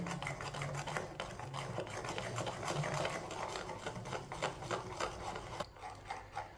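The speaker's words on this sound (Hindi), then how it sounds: "बेसन को अच्छी तरह मिक्स कर लिया" Gram flour batter being whisked by hand for aloo tikki, a steady scraping and stirring rhythm of quick repeated strokes against a bowl, close and continuous, with no talking.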